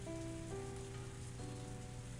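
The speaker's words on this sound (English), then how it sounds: "I was left alone in the heavy rain." Steady heavy rain hissing continuously in the Higurashi When They Cry game, quiet and even, with soft sustained musical tones on top and no voices.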